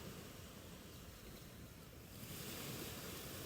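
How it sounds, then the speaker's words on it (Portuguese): Ocean waves washing onto a beach make a continuous, broad surf rush that swells louder partway through, with a breezy wind hiss mixed in and no voices. "o mar dança em harmonia com o som das ondas"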